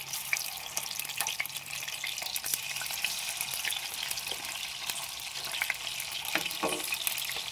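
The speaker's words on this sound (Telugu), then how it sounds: "ముందుగా పెనం పెట్టుకుని ఇదిగోండి ముక్కలు మనం క్లీన్ చేసుకున్న ముక్కలు వేసేద్దాము." Cleaned crab pieces fry in hot oil in a pan, giving a continuous bright sizzle with occasional sharper crackles and stirring clatter, steady and close.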